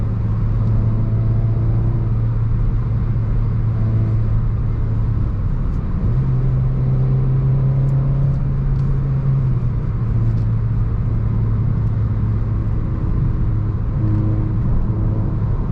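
A 2011 Renault Clio 3 RS engine (2.0L, 203 hp) hums steadily while driving, with a low droning rumble that rises in pitch briefly as it accelerates, then settles back.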